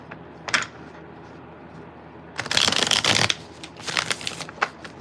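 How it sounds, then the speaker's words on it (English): A deck of tarot cards being shuffled up close, with a short flick early on and then a dense, crisp burst of cards riffling together, followed by lighter scattered card taps over a steady background hiss. "I want to shuffle one more time."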